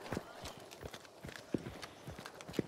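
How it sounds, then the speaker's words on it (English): Horse hooves clip-clop in the Western-themed shooter game Hunt: Showdown, a quiet, irregular trot sounding from somewhere nearby within the map, with distant ambient noise and no talk. "Where was that horse?"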